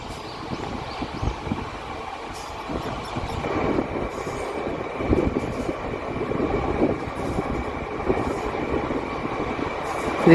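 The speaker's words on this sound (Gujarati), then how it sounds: "ડિપાર્ચર આપણો અહીંયા ખૂબ જ ઝડપથી થઈ રહ્યો છે આંબલી રોડ રેલવે સ્ટેશન પરથી" A WAP5 electric locomotive hauls its train away from Ambli Road station, a steady broadband rumble of rolling wheels and rail noise that swells slightly as it gathers speed, close by and continuous.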